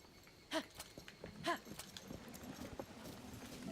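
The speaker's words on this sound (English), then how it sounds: "Let me just grab my horse here." Horse hooves in Zelda: Tears of the Kingdom clip-clop at a steady walking pace, faint and slightly distant, with a low background murmur.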